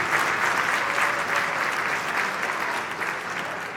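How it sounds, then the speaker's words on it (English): Sustained applause for the Children's Chorus of Washington at a tenth anniversary gala dinner, a dense, steady wash of many hands clapping that fills the room and tapers only slightly toward the end. "Give them a round of applause."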